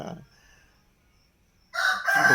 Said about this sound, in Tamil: கோழி கூற சத்தத்தை கேட்டோம்